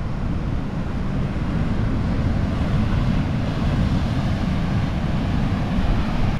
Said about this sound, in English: Watch as the waves crash through this.